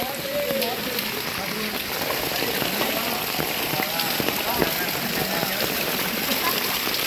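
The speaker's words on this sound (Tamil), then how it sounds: "மிக கனமழையே ஊர் தத்தளிக்குது." Heavy rain during a village flood pours steadily and loudly, a dense continuous hiss of drops on surfaces with running water beneath, unbroken from start to finish.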